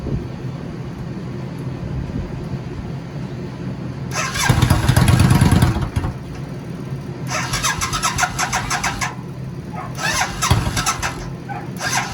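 Yamaha V-Star 650 motorcycle with a choke fault, cranking and trying to start in repeated bursts: a loud churning surge near the start, then two more separate cranking attempts over a steady low idle-like rumble.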